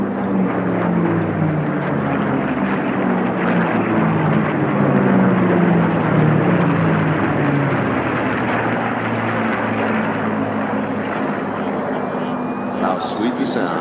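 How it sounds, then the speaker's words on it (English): Merlin-engined propeller racing planes at the Reno air races roar steadily past, a loud, continuous, throaty engine drone with a slowly shifting pitch that fills the whole stretch. "Let's listen again to the sound of Merlins here in Reno."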